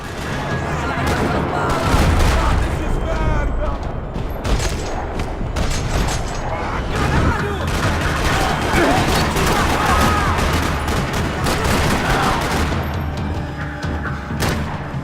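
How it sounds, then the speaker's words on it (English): Gunfire rattles through a parking lot in Max Payne 3, dense bursts of shots and booms overlapping continuously while voices shout amid the firefight. "Another parking lot rattling with gunfire."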